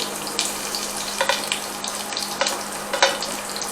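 Onions and garlic fry in oil in a home kitchen pan, a close, crackling sizzle with bursts of spitting and stirring scrapes, loud and continuous with no talking.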